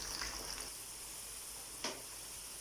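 Taro (arvi) pieces fry in oil in a cooking pot, giving a quiet, steady hiss with a few soft stirring scrapes and one brief louder crackle near the end.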